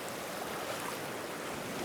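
A river stream flows steadily in a flood-hit area of Sumatra, a constant broadband wash of moving water heard at a moderate distance with no voices.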